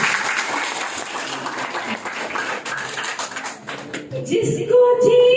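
Applause and clapping from an audience at a Hindu devotional gathering, a steady broadband patter across the clip before a sung bhajan with music rises near the end.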